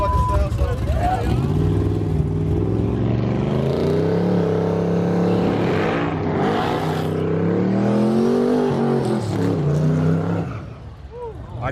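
A 1955 Chevy Bel Air and a twin-turbo F-body Camaro in a grudge race roar loudly and continuously, their engines revving and rising in pitch as they accelerate close by, fading slightly at the end.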